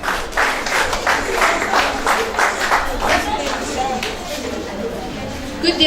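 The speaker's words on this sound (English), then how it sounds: "Please keep clapping." At a school Christmas carol event, a hall audience gives a steady round of applause, a close, continuous patter of many hands with some crowd murmur, tapering a little near the end.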